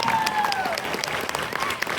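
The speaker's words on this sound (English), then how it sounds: "Hey, give this guy a round of applause." A convention crowd of about a thousand fans at a vampire fan weekend applauds a young fan, a dense burst of clapping heard at moderate level with a brief tone passing through early on.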